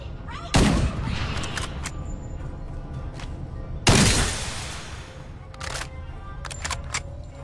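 Two heavy bursts of gunfire in Farlight 84 hit loudly about three seconds apart, each followed by rattling shots and smaller pops, with game sounds filling the gaps.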